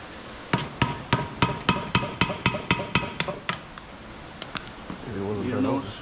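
About a dozen sharp, evenly spaced hammer blows ring out on a Farmall Super A tractor part, close up, then stop as a voice and low rumbling follow.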